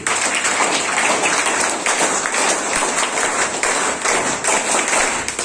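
A group of teachers at a training session in Banka, Bihar claps steadily and loudly together on a count, a dense, continuous patter of hands with no talking over it.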